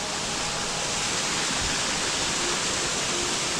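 Hin Lad Falls, a hidden jungle waterfall on Koh Samui, Thailand, roars close by in a loud, dense, unbroken rush of falling water.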